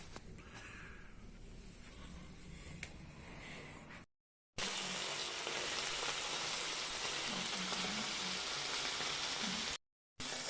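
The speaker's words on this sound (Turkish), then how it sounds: "Kemik suyu koyduk kaynayacak burada." Bone broth bubbling in a pot on a wood-fired kuzine kitchen stove, a steady hissing, crackling simmer with faint low bubbling, continuous and fairly quiet, broken by two short gaps.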